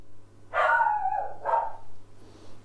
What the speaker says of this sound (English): Yeah, dogs are kicking off again.